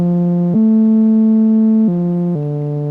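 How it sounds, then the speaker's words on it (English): A sustained, buzzy MicroKorg synth pad holds one pitch, then steps down twice to lower notes, steady and fairly loud with a soft, intentionally noisy haze underneath. "So the patch that I designed on the MicroKorg sounds like this."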